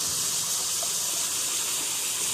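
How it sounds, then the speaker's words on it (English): A waterfall in a nature setting gives a steady, loud hissing rush of falling water that holds unchanged for a couple of seconds, with no voices. "And look at this waterfall again."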